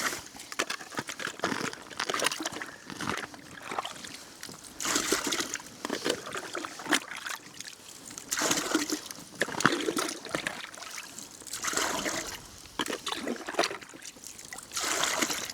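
Pond water sloshing and trickling as it is scooped into a container at a backyard fishing pond, with irregular splashes and dribbles spread throughout, moderately close.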